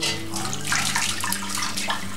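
Cold or lukewarm tap water pours steadily into a cast-iron Dutch oven during cleaning, a constant close splashing rush with a slight resonant ring from the pot, heard alone without voices.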